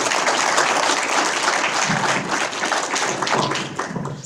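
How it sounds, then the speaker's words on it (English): Audience applause at a hacker conference talk, a steady burst of many hands clapping close by for about four seconds, slowly tapering. "Everybody give him a round of applause."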